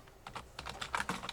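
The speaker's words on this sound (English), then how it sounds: "Just typing to Raynen real quick." Quick typing on a computer keyboard, a close burst of crisp, uneven key clicks that grows slightly busier toward the end, with no talking.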